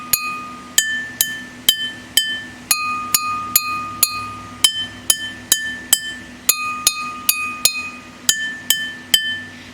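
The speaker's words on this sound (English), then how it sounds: "Now listen as I play this glass." Water-filled glasses struck one after another, about twenty bright ringing tones at a steady pace with shifting pitches, each sharp strike followed by a short decaying shimmer, loud and close with no voices.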